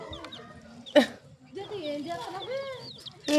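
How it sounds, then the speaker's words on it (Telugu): Small chicks cheep and peep in thin chirps close by, with a few louder bursts and light rustling around them. "భలే ఆడుకుంటున్నారు కోడిపిల్లలు"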